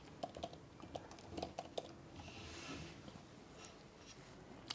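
Quick, light taps on a computer keyboard while entering text in Canva, irregular clicks in short runs, close but soft, followed by a brief mouse click and quiet room hum.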